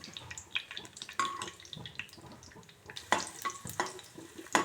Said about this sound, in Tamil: அடுத்தது பேரிச்சம்பழத்தை வறுத்துடலாம்